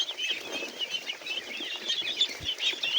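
Pet ducks feeding, a dense, continuous chorus of quacks and chattering calls from a close flock, with rustling and scattered dabbling sounds underneath and no talking.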